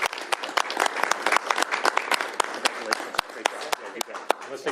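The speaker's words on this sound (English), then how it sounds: "Please give them a round of applause for their hard work on this legislation." A crowd at a governor's bill signing breaks into applause, with crisp individual claps close to the microphone over a busier clapping bed, while voices chatter underneath.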